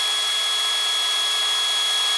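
A cordless power drill spins steadily on its low speed setting, around 345 RPM, used for valve lapping in a Subaru Crosstrek engine build, giving a continuous even whirring hum with no pauses or voices.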